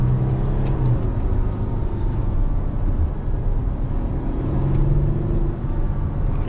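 A VW Amarok 3.0 V6 TDI diesel engine hums steadily up close, its rev level shifting slightly over a continuous low rumble with no talking.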